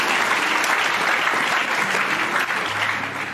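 A church congregation applauds in praise of the Lord, a loud, dense, sustained clapping that fills the space and fades slightly toward the end.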